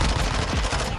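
Rapid gunfire in a first-person video game shooter, a dense loud burst of shots filling the whole second with a faint voice underneath.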